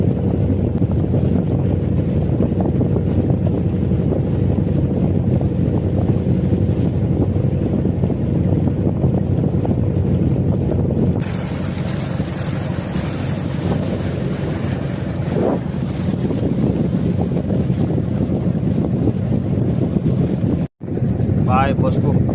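Boat motor droning steadily while crossing the Sungai Apit river to a remote island in Siak, Riau, loud and continuous with strong wind rushing over the microphone and water splashing.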